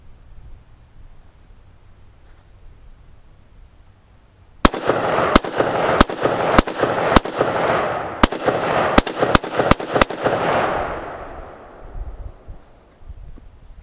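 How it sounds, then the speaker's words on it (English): AR-15 rifle fired downrange outdoors in a rapid string of about ten sharp, loud cracks over several seconds, each followed by a trailing echo, with quiet before the first shot and a long fade after the last. "I have another 10 rounds loaded in this AR-15. I'm gonna lob them downrange."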